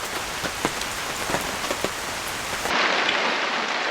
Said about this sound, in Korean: 비도 많이 오고.